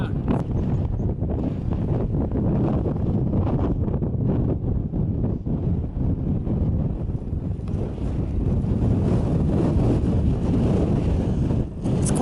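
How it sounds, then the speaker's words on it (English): Strong, steady wind buffets the microphone on a steep hillside path along the Pennine Way, a continuous loud low roar with gusting swells and no voices. "It's quite windy today"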